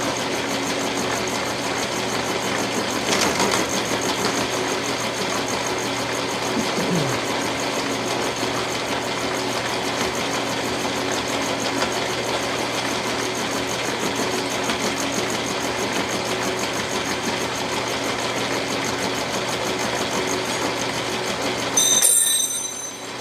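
An Atlas 7B shaper-type machine tool runs steadily through a machining cut on an outer guard hinge mount, a continuous mechanical drone with a faint rhythmic chatter, close and alone, ending with a brief louder clatter.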